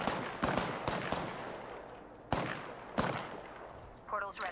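A few sharp gunshots in Apex Legends ring out at irregular intervals over a noisy background, with a brief electronic chirp near the end.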